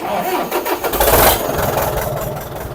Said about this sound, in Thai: เครื่องสตาร์ทปิดง่ายนะครับ ไม่ต้องห่วง